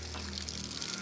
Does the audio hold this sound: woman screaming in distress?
no